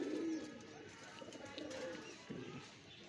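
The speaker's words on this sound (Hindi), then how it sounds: "ये भी देखा सुर्ख पंजाब कबूतर है मेरे पास।" A high flyer pigeon coos softly a few times, faint and close against quiet background noise.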